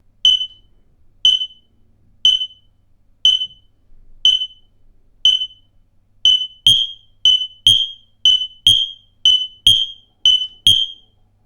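An X-Sense SX01-WR interconnected smoke alarm sounds during a button test, sharp piercing beeps at first in an even one-per-second pulse, then quickening into a denser, louder run of paired beeps, close and alone.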